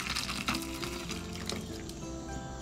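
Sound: pouring drink from opened tin into tiki mug

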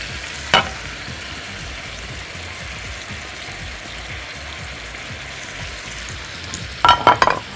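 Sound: stirring rice with caramelized onions frying in a pan

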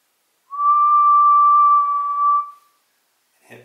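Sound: person whistling

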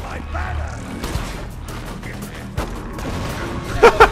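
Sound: gunfire and explosions in video game Borderlands 2

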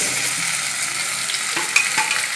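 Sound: ivy gourd being stirred and fried with onions

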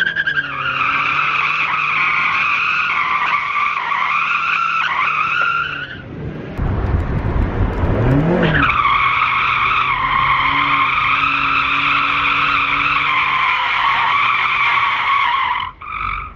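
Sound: Mazda MX5 turbo drifting, tires skidding

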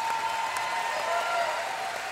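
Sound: audience applause at a brass orchestra concert

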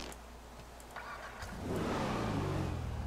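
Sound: Dominator FX Interceptor car engine revving in a video game

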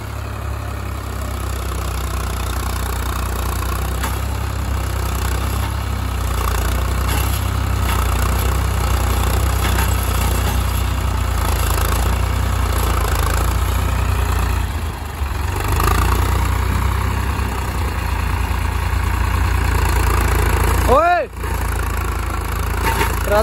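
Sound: Farmtrac 60 tractor engine idling, stuck with loaded trolley

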